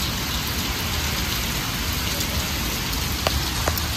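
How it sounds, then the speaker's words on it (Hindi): Heavy rain pours steadily, a dense, continuous hiss of drops drumming on surfaces nearby, with no voices over it. "आज बहुत दिनों के बाद बारिश हुई गाइस, और इतनी तेज तो बहुत मुश्किल से"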